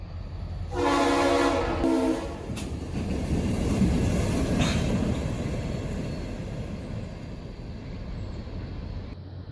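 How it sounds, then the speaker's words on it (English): Light engine move of an SD60i and two GP38-2 locomotives, former Conrail units, passing in winter: a loud multi-chime horn blast opens, then a steady diesel rumble and wheel noise roll past nearby, with no talk. "we catch a light engine move with an SD60i and two GB38-2s"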